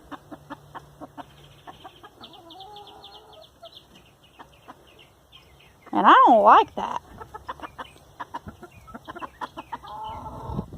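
A rooster that had attacked and drawn blood clucks in short repeated bursts close by, with one louder outburst in the middle, while a person speaks over parts of it.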